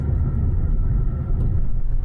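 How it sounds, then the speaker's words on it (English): Low, steady road rumble inside a car cruising at about 30 mph with the air conditioning running, a continuous dull drone with no voices. "There's a little bit of road rumble."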